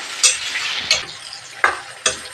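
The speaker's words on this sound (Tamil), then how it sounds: "பாருங்க ஃப்ரெண்ட்ஸ், வெங்காயம் வதங்கிறது இல்லையா" Onions with garlic sautéing in a pan for a tamarind kuzhambu, a continuous close sizzle broken by four sharp spatula scrapes spaced roughly evenly apart, no voices.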